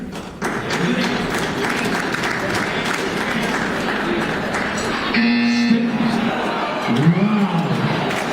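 Audience applause at a live happy-hour game event, a dense and steady wash of clapping that runs through the whole stretch, with crowd chatter and voices mixed in.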